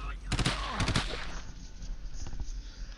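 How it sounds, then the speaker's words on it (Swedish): Two quick bursts of rapid automatic submachine gun fire in a video game, then scattered fainter shots, with a voice speaking over the shooting. "Jag sätter en massa skott i någon."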